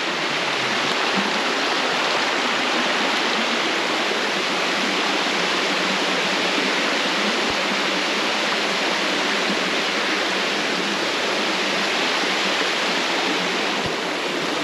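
A large waterfall in rural countryside roars as a constant, dense rush of falling water, loud and steady throughout with no voices.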